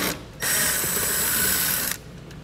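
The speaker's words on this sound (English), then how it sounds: "you'll have one fastener down here that you're gonna need a 7mm socket to remove" Ratchet turning a 7mm socket to loosen a fastener on a 2019 Ford Fiesta during a base plate install, one steady close burst of fine clicking lasting about a second and a half, with quiet around it.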